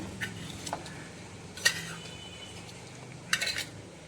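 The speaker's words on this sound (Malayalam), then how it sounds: "വച്ച മുളകും ഉള്ളിയുമൊക്കെ ആ തൈരിലേക്ക് കോരി ഇട്ട് കൊടുക്കാം" Fried chillies and onions spooned from a pan into a bowl of curd, a few light metallic clinks of a spoon against the dish over a quiet background.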